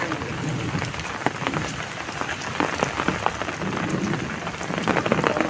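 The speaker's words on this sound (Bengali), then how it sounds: "আর খুব বৃষ্টি হচ্ছে" Heavy rain pours steadily on a rural pond in Bengal, a dense, continuous hiss with close drops spattering on surfaces, building slightly louder toward the end.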